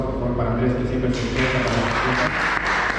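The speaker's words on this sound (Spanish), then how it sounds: "Un aplauso" Applause from an audience at a talk on reading, rising about a second in and continuing steadily under someone speaking Spanish over it.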